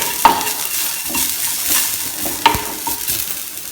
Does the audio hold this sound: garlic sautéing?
yes